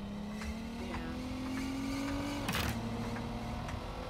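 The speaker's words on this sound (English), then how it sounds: "This car sounds like it's gonna fall apart." Car driving in the video game Watch Dogs Legion, a steady engine hum with rising pitch that drops at a gear change, accompanied by a brief burst of rattling noise midway.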